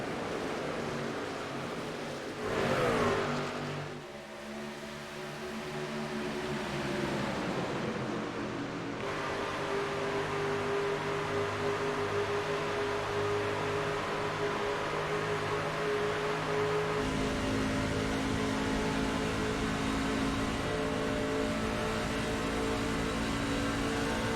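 Race cars in a video game roll to the green flag at Daytona International Speedway: a brief engine rev swells early, then a steady, loud droning pack of engines continues to the end.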